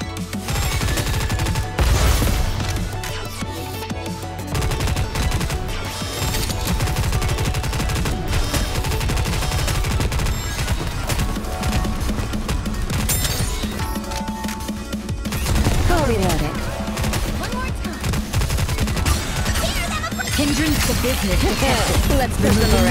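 Gunfire in the mobile game Goddess of Victory NIKKE, Lost Sector stage: dense, loud volleys of rapid shots that run without pause for the whole stretch, layered over busy game effects.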